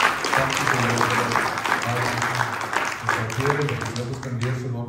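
A church congregation at a Christmas carol service claps hands steadily and continuously, a full room of applause with voices mixed underneath.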